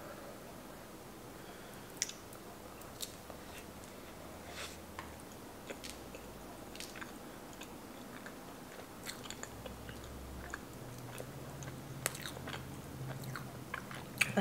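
Someone biting into and chewing a chocolate donut close to the mic, with soft, squishy mouth sounds, quiet smacks and occasional light clicks over a faint background.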